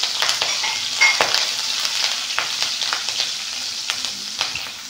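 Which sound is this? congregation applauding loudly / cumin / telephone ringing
cumin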